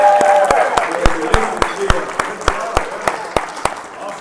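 At a banquet, a handful of diners clap for the hotel staff, sparse distinct claps spaced evenly across four seconds with a voice briefly heard at the start, close and moderately loud.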